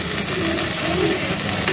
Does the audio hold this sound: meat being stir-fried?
yes